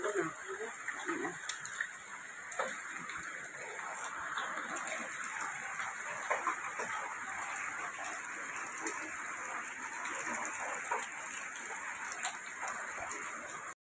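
Steady rain falls outdoors in the morning around a rural home where water must be fetched, a dense continuous hiss of drops on surfaces with scattered nearby patters throughout.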